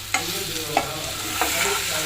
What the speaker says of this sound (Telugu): ఇదంతా ఈ చికెన్ బాగా పట్టేదాకా స్లో ఫ్లేమ్లో పెట్టుకొని వేగనివ్వాలి.